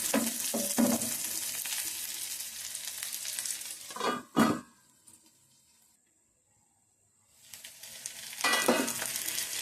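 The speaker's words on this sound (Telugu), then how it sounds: "కాకరకాయ ముక్కలు కూడా వేసేసుకున్నాం. కొద్దిగా నూనెలో వేగాలి, కొద్దిగా నూనెలో మగ్గనివ్వాలి." Bitter gourd pieces and onion sizzle loudly in oil with stirring clatter, then the frying dies down to near silence mid-way before a strong sizzle returns at the end.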